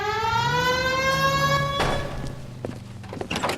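Wailing police car siren from the video game L.A. Noire, rising and falling in loud harmonic sweeps for nearly two seconds, then cut short by a couple of dull thumps like a car door.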